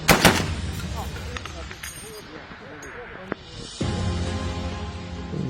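A loud sharp blast from a long-range rifle opens, followed by a few fainter cracks and muffled rumbling, then a steady noisy background after a sudden shift.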